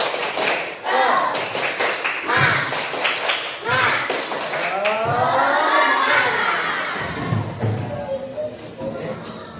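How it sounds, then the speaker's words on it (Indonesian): A group of teachers in a training session performs a rhythmic spirit clap, crisp patterned claps in quick bursts mixed with chanting voices, then voices carry on over fewer claps. "Sekarang tepuk semangat, bisa? Tepuk semangat."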